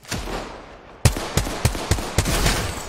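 A base firing its guns in an online competitive video game: a low rumble, then a sudden sharp shot followed by four more punchy reports at roughly even intervals, loud and close, with no talk.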